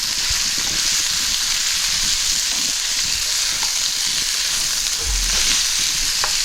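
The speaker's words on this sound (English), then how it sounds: "now we can put the pork in there" Pork frying in oil with garlic gives a constant, dense sizzle close by, steady and bright throughout, with a faint low bump or clatter near the end.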